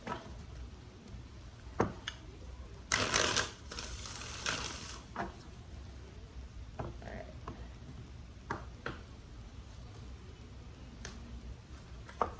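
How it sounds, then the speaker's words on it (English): Tarot cards shuffled by hand: scattered sharp card snaps and taps at irregular intervals, with one longer dense riffle burst early on, close and fairly quiet against a low background. "Let's do 2 more shuffles for Taurus and Marcus."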